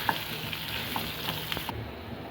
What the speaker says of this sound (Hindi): और इनको इसमें फ्राई करेंगे अच्छी तरह ऑयल में